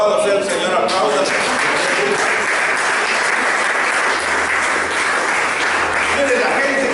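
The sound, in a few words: church congregation applause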